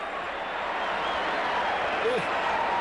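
A standing-room-only crowd at a 1987 Cubs–Phillies game at the baseball stadium roars and applauds steadily after a home run. The sustained ovation fills the background.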